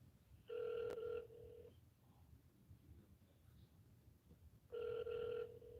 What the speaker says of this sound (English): How many times you gonna fucking transfer and let it ring?